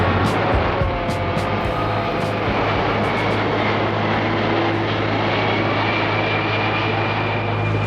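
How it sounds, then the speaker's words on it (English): A low-flying airplane passes right under the Heathrow approach path, a loud, sustained engine roar with steady droning tones filling the whole stretch. "Planes never look that close on camera, but that was really low and right under the flight path to Heathrow"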